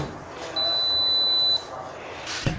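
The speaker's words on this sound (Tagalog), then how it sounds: "Pag may narinig ka na long beep" A Daikin inverter air conditioner, checked with its remote for a UO error code, gives one sustained high-pitched beep lasting about a second, followed by a short click.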